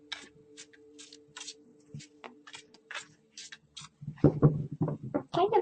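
Quick papery riffles and flicks of cards being shuffled, a series of short crisp bursts, followed by a louder rustling stretch near the end.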